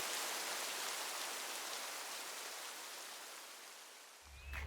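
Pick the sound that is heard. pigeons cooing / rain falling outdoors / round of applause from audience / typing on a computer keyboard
rain falling outdoors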